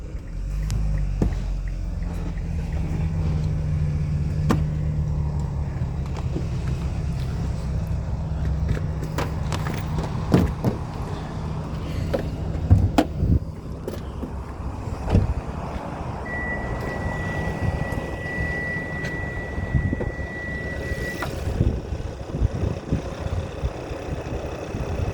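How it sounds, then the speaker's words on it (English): A 2014 Kia Sportage engine idles steadily with a low rumble, with scattered clicks and knocks over it and a faint tone in the later part. "now with the motor running"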